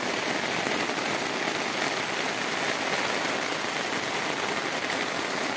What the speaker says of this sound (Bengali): এখন আমরা ছাদে এসেছি, অঝোর ধারায় বৃষ্টি পড়ছে।